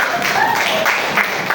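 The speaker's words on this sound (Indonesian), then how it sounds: "tepuk tangan" Applause from a group, steady clapping with a few cheers or voices mixed in, fairly loud and continuous for a moment.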